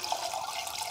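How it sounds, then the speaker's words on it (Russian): Leftover blanching water from carrots is strained into a pot, pouring steadily with a continuous splashing rush, close and moderately loud, with no voices. "Я процежу сюда воду, которая осталась у нас после бланширования"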